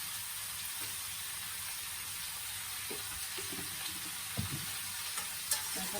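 Vegetables with green chilli and turmeric sizzle in a pan in a steady, close frying hiss, with occasional scraping and clinking as they are stirred.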